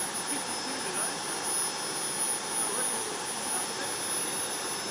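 A homemade jet turbine engine idles at about 51,000 RPM with a dense, steady roar and a high whine, loud and close, without letup.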